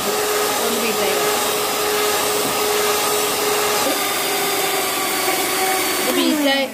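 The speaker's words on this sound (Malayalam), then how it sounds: "നമുക്ക് ലോ സ്പീഡിൽ ഇട്ടിട്ടാണ് ബീറ്റ് ചെയ്യണത്." Electric hand mixer beating cream at low speed for a chocolate truffle cake, a continuous close motor whir with a faint steady hum throughout, rising slightly at the very end.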